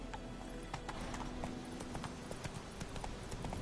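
Roach the horse's hooves clip-clop steadily in Witcher 3, a continuous run of hoofbeats close by over a dense game ambience.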